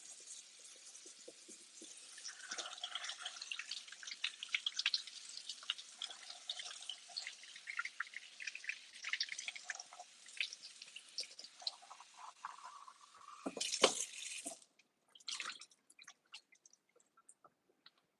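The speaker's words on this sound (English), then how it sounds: "And then simply just run water inside." Water running inside a part of a Dyson cordless vacuum during cleaning, a faint close trickle with irregular splashes and gurgles, rising briefly to a louder gush near the end.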